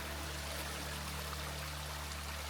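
A creek in the wilderness flows in a steady, close, even rush of water with no breaks, with no voices over it.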